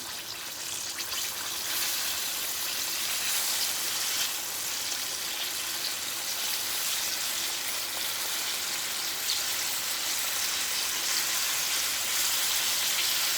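Chicken and vegetables sizzle and crackle in a hot pan for a stir fry, a soft, continuous hiss with no talking.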